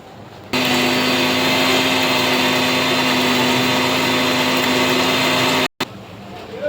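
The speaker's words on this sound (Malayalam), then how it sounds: "ഇതെല്ലാം കൂടി നമുക്ക് അടിച്ച് അരച്ചെടുത്ത് കൊണ്ടുവരാം" A mixer grinder blends tomato and green chilli rasam spice paste with asafoetida, a loud, steady whirring motor hum running continuously for several seconds before cutting off abruptly, then briefly restarting.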